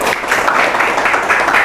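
A classroom group claps for the fourth presenting team during a teacher training session, a short burst of loud, close, continuous clapping without speech.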